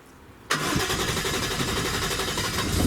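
A Nissan S14 with a JZ engine cranks and fires up after a brief pause, settling at once into a loud, steady close-up idle.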